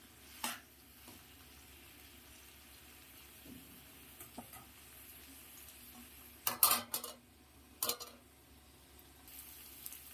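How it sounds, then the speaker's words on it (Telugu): Ivy gourd pieces fry in a pan over a medium flame, a faint low sizzle broken now and then by metal spoon scrapes and clinks against the pan, quiet and close with no speech. "చూస్తున్నారు కదా మధ్య మధ్యలో ఇలా నేను కలుపుకుంటున్నాను"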